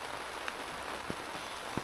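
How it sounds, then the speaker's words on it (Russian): Steady soft rain patter on a tent with a few distinct drips landing close by, quiet and continuous with no voices. "Вот слышите, сейчас капает дождь."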